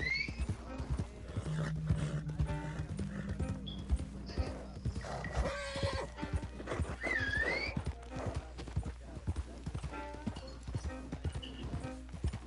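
Horse hooves clip-clop steadily at a gallop in the video game Red Dead Redemption 2, with a loud whinnying neigh partway through and voices talking over the action.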